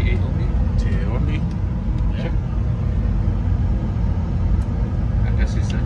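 A Boeing 747-8 engine surging in flight, heard as a steady loud low rumble filling the cabin with faint tonal whines above, continuous throughout under occasional cockpit voices.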